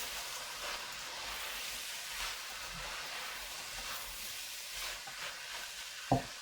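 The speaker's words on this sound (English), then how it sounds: "I'm going to add the lentils and mix those" Lentils being stirred into vegetables cooking in a soup pot, a soft steady sizzle and faint scraping under a quiet hiss, ending with one sharp knock of the spoon against the pot.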